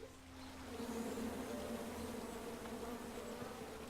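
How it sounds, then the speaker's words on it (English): Steady insect-like buzzing of bees in the King's Quest video game, a continuous droning hum with a low tone underneath, fairly loud and constant throughout. "Come at me, bees!"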